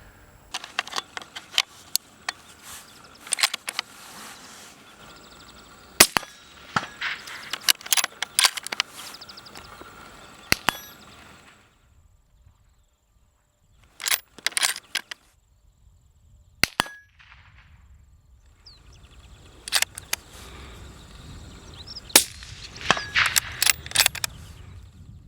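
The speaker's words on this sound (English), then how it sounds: "we're going to be demonstrating one of these, or all of these silencers today on various different rifles" Rifles fired through Greystone silencers give sharp suppressed reports, each one a crisp crack followed by a ringing metallic tail, coming in irregular bunches with quiet gaps between them.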